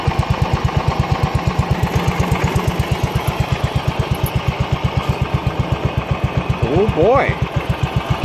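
A small carbureted engine, raised off the ground, idles steadily with a fast, even chugging pulse throughout, close and loud, while a voice speaks briefly near the end.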